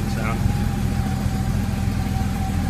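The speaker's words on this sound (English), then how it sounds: "Hopefully y'all can hear me with the engine sound." A 1985 Porsche 911 Carrera Targa engine idles nearby, a loud, steady low rumble with a faint thin whine running through it throughout.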